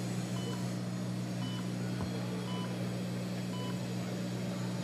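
Five faint, evenly spaced electronic beeps, roughly one per second, from a Solea dental laser priming, sounding over a steady low machine hum.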